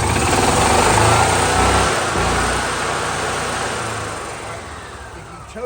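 An EZGO EFI golf cart engine runs steadily and loudly close by, a dense continuous roar that eases slightly in level toward the end, with no talk over it.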